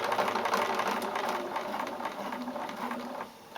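A sewing machine stitches a curved edge on a fabric mask, a steady close mechanical whir running continuously before easing off at the end.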